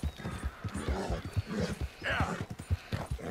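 A horse in the video game Red Dead Redemption 2 gallops hard, with rapid, evenly spaced hoof thuds close up and a brief whinny midway, under quiet talk.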